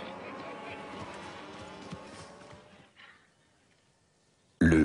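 Ranch horses' hooves clatter as cowboys herd about a thousand cattle toward a corral, a busy clip-clop under a voice that fades out to near silence before a sudden loud burst at the end.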